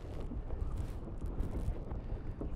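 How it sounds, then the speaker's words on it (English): Steady wind buffeting the microphone during an outdoor pedal kayak demo, a constant low roar with gusty rumbles and no voices. "It's very windy here."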